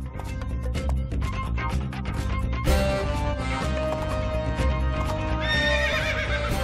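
A horse neighs loudly over the steady clip-clop of hooves, with a dense, full backdrop beneath that continues throughout.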